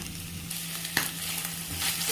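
Chopped onion and tomato sizzle steadily in a pan while being stirred for chowmein, with a soft scrape of the stirring utensil and no voices.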